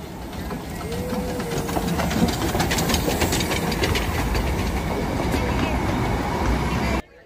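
A train rumbles past close by at Batasia Loop, Darjeeling, a steady loud roar of wheels and engine with hissing, lasting several seconds before cutting off abruptly.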